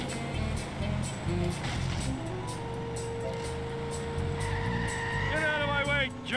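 A video game car slides on the handbrake, with engine drone and a rising tire squeal late in the skid, while people talk over it.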